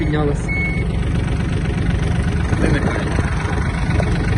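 A Yanmar F-255 mini tractor runs in reverse gear with a steady, close diesel idle, a brief high beep near the start and faint clanks over the rumble.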